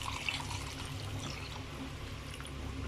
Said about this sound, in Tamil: இப்போ வந்து நான் ஒரு 5 கப் தண்ணி வந்து இதில் ஆட் பண்ணிடுறேன்.